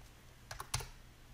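A few quick keystrokes on a computer keyboard as a domain name is entered during a Windows Server 2019 setup, faint and close, a short cluster of clicks in otherwise quiet room tone.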